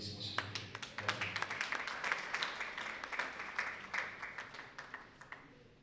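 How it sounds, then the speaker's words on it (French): Audience applause greeting a woman invited on stage at an evening event, a dense steady patter of claps near the room, with faint voices underneath, fading slightly toward the end. "Sous vos applaudissements, s'il vous plaît."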